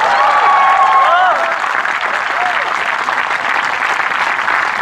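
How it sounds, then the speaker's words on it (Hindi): An audience at a Hindi humorous poetry gathering breaks into loud, dense applause that holds steady throughout, with a brief voice or whistle-like tones near the start. "तालियां बजाएं।"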